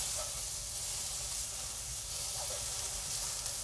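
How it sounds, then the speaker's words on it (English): Mushrooms sizzle in a pan while cooking, a loud, even frying hiss close up and unbroken, with faint pops and squeaks from their moisture. "sometimes it's just nice to hear the sizzle"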